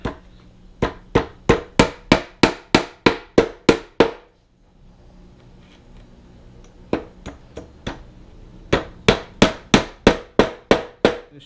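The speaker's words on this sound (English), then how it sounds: "Make sure you just hammer them pretty good into the carpet so they don't stick out." A hammer drives roofing nails into carpet in rapid, steady runs of sharp blows, pausing for a few seconds of quiet before resuming with more quick, evenly spaced hits.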